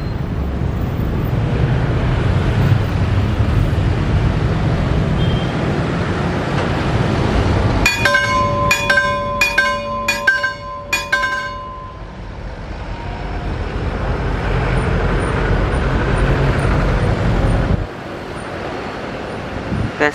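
The Serayu passenger train pulls away from an Indonesian station with a steady broad rumble, broken midway by a run of several short, sharp tonal horn blasts before the rolling noise continues.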